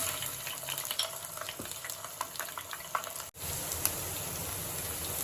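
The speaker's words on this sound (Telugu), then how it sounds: "ఇదే బాండీలో అల్లం వెల్లుల్లి పేస్ట్ వేద్దామండి" Ginger garlic paste fries in a pan (bandi) where banana pieces were just fried, giving a steady close sizzle with light stirring scrapes and a brief gap partway through, no talk.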